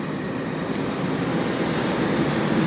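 Austrian Airlines airplane bound for Hamburg, heard as a steady, fairly loud broadband engine roar that holds constant throughout with no voices.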